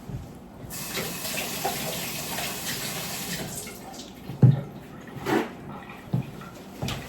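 Tap water runs steadily while romaine tomatoes are washed under it, a continuous close splashing stream with a few louder splashes and handling knocks toward the end.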